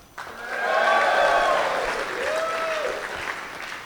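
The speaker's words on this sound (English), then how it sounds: "Biggest cheer she'll get tonight." Live comedy-club audience at a stand-up contest bursts into applause with some cheering, a steady wash of clapping that swells quickly and holds for several seconds before easing slightly.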